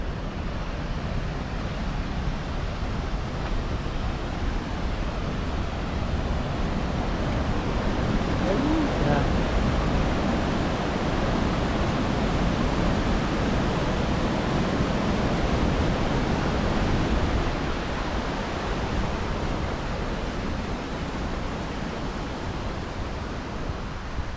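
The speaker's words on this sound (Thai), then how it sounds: "ตอนนี้มีน้ำตกน้อย" Water pours over the Coon Rapids Dam in Minnesota in a constant, broadband rushing roar, heard close and steady throughout with no pauses or talk.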